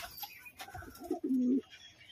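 Pigeons in a rooftop loft give a soft, low coo, a single sustained call near the end, faint and close amid light background rustle.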